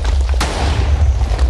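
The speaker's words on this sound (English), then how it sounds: "it's my simple cannon rigged up to a hopper clock" A rapid-fire cannon rigged to a hopper clock in a video game booms loudly and almost continuously, a deep rolling rumble punctuated by one sharp, bright blast early on, with no voices.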